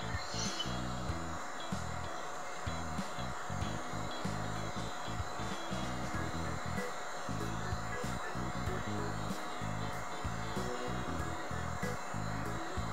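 A Crayola Spin Art Maker toy spins steadily with a continuous whirring motor hum, rattling in fast irregular pulses throughout, with no voices.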